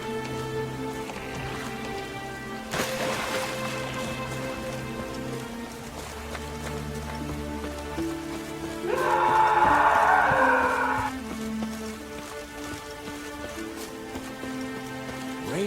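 Steady rain patters in The Witcher 3: Wild Hunt over a low droning background with tonal music-like layers, swelling louder for a couple of seconds midway.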